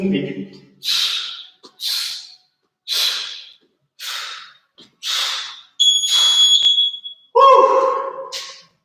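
A workout timer clock beeps during a core and calisthenics session: a sharp electronic tone sounds after a run of heavy rhythmic breaths and gasps, with strained vocal sounds around it.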